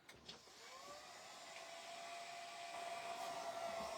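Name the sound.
electric hair dryer drying a craft project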